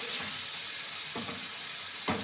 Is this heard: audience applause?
no